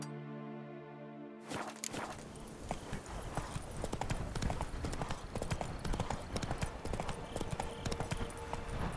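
Horse hooves clip-clop steadily on the ground as Roach carries the rider through The Witcher 3, the rhythmic footfalls sounding close and continuous over faint game ambience after a brief musical opening.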